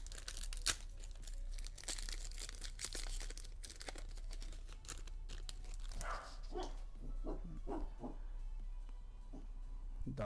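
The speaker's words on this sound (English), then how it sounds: "Dogs are barking." Dogs bark in short bursts, mostly in the second half, behind steady crinkling and tearing of card packaging that carries on throughout.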